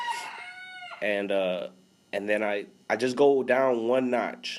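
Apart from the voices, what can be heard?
roosters crowing in the background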